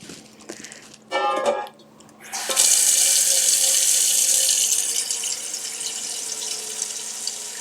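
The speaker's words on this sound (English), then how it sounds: "So I'm going to put a few inches of water in this pot." A brief clatter and knock, then tap water gushes loudly and steadily into a pot with burnt food stuck to it, the rushing sound holding on until the end.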